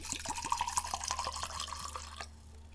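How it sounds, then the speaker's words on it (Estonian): Water being poured into a glass vessel for a science-theatre upside-down bucket demonstration, a close, steady splashing trickle with bright drips that stops abruptly near the end, with no talk over it. "Seega kõigepealt on meil vaja see anum täita veega."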